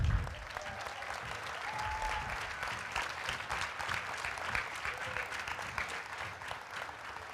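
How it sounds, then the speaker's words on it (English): Steady applause from an audience honoring elders at a Kivgiq gathering, continuous clapping holding at an even level throughout with no voices on top. "Let's give our elders a round of applause."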